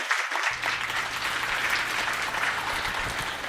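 A live audience bursts into sustained applause for podcast guests at a French-language digital event, steady dense clapping filling the room from start to finish with no talk over it.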